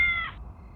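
A short, fairly loud cat meow with bright harmonics that cuts off after about a third of a second, leaving quiet background, heard alone without talk.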